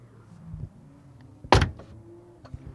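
A Porsche 718 Spyder door with frameless windows shuts in one sharp, solid clunk up close, with a few faint clicks and rattles before and after.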